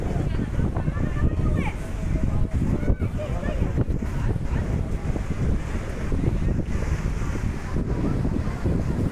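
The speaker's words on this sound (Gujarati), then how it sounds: "જો કેવા સોલેટ હિલોડા આવે છે દરિયાના" Sea waves roll in at the Dwarka shore near the Bhadkeshwar Mahadev temple. A loud, continuous surf roar is buffeted by heavy wind on the microphone, with voices faintly mixed in.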